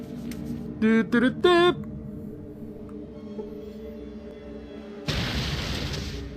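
A dynamite blast in the Fallout 2 computer game destroys a cart and a pile of rubble, a loud broad roaring burst that arrives suddenly near the end after quieter game sounds and short musical tones.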